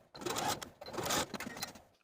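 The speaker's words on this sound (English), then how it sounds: "take it back to your sewing machine and stitch that opening closed following the original stitching line" A sewing machine stitching fabric along a seam on a shirt, two short bursts of quick mechanical whirring close by, with a brief pause between them.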